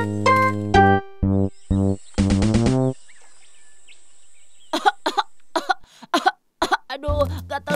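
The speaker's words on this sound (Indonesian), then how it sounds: "batukmu makin kenceng aja" Several sharp bursts of human coughing in short clusters, followed by throat clearing and brief vocal sounds, all close and loud.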